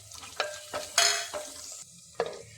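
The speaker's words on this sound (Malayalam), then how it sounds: "ഇഞ്ചിയും വെളുത്തുള്ളിയും ഉള്ളിയും കൂടി ഒന്ന് വഴറ്റി കൊടുക്കാം." Ginger, garlic and onion are sautéed in a pan, giving several distinct scraping stir strokes with brief crackling bursts over a low sizzle, close and without speech.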